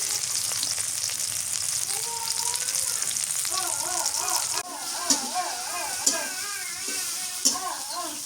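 Chopped onion and green chillies sizzle in hot oil with a dense, steady frying hiss throughout, close and loud, while a voice talks faintly over it and a few soft clinks sound near the end.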